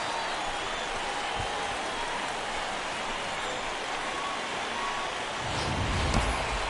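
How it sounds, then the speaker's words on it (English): Crowd noise at a baseball game in MLB 2K17 swells in a steady, broad roar late in the game, rising louder near the end after a home run. "the home crowd has really come to life here in the bottom of the 8th"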